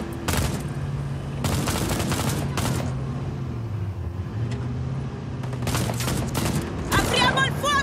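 Rapid bursts of Just Cause 4 video game gunfire crackle over a steady engine-like drone, with shouting voices mixed in.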